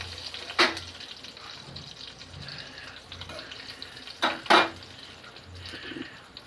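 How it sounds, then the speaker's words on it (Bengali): Whole dried red chilli, bay leaf and cumin seeds frying in hot oil in a kadai while making vegetarian ghugni, a steady soft sizzle with a few sharper bursts as more spices drop in, close and moderately quiet. "কড়াইতে তেল দিয়ে দিয়েছি, একটা গোটা শুকনো লঙ্কা, তেজপাতা আর গোটা জিরে দিয়ে দিচ্ছি"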